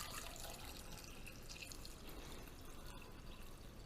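Water pours into a cooking pot for a simmered dish, a faint steady splashing and trickling close by, continuous and without speech.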